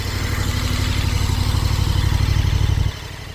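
A 2026 KTM 1390 Super Adventure S motorcycle engine runs loud and close with a steady low throb, then drops off sharply near the end.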